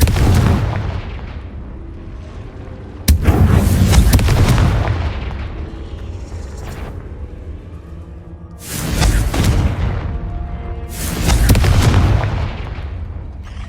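Fiery blasts from the Confringo spell in the video game Hogwarts Legacy come as four heavy booming explosions, each a loud sudden hit with a rumbling decay, spaced several seconds apart over background game ambience.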